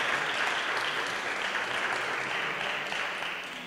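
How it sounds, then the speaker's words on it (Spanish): A large audience claps continuously at a conference event, a dense, even wash of applause that holds steady and begins to fade at the end. "Por favor, un aplauso para ellos"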